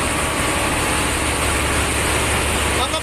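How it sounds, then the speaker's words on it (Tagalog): A very large ship engine rated around 80,000 horsepower runs in a dense, loud, steady low rumble with a broad mechanical roar, close and constant, with no words spoken over it. "Makina ng barko na ito, napakalaki."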